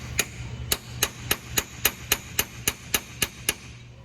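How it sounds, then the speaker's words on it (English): A small 8-ounce hammer tapping on a part while rebuilding a CFT can seamer, about a dozen sharp, evenly spaced metallic taps, close and clear with no talking. "tiny little 8-ounce hammer for stuff like this because I can control it really well"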